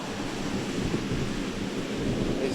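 Ocean surf rolling in a steady, broad wash with low rumbling and hiss, like waves breaking at a distance, with no voices over it.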